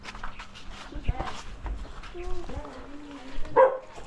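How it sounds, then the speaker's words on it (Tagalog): A dog gives a short bark or yelp near the end, partly buried under people talking nearby at a house entrance. "Pasok ka, may aso"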